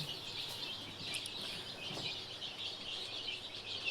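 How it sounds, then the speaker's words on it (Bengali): Ten-day-old native chicken chicks chirp in thin, high peeps scattered across a quiet background, fairly soft and irregular. "আমি দেশি মুরগির বাচ্চা নিয়ে আসলাম আজকে 10 দিন হয়েছে"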